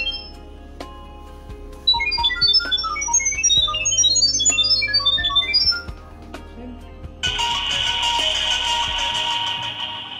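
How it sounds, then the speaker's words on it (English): A security camera plays a bright melodic electronic tone sequence while being configured from a nearby mobile phone, a high chirpy tune over a low hum, followed by a louder, denser burst of tones toward the end. "During configuration, camera will produce music sound."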